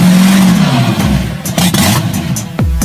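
An old drag racing car engine revs hard, loud and close, its deep roar climbing and dropping in rapid surges with a sharp rev spike near the end.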